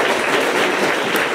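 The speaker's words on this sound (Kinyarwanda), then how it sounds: "Mukomere Imana amashyi menshi cyane" Steady, dense applause from a church congregation clapping for God, filling the whole moment with even, continuous hand claps and no speech.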